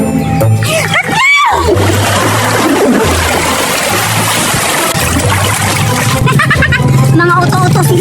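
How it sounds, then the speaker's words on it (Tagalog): People plunge into dirty water on a count of three, a loud splash followed by continuous churning, sloshing and spattering. Close and busy, with faint voices and shouts mixed in. "kailangan sisid na kayo sa tubig"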